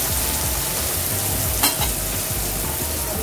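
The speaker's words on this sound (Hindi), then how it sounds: "सब्जी अच्छे से फ्राई हो चुकी है।" Chopped vegetables with beans and capsicum fry in a pan, a dense, continuous close sizzle with stirring scrapes throughout and one brief sharp clack partway through, with no voices.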